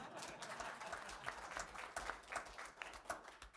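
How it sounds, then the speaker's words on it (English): Faint, distant applause from an audience at a city council meeting, a steady patter of many hands clapping with a few louder individual claps. "Yeah, clap."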